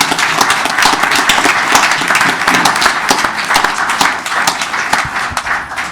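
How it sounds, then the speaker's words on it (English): Sustained audience applause at a school board of education meeting, dense steady clapping from a crowd throughout, loud and continuous without a break. "Another round of applause for our interventionists."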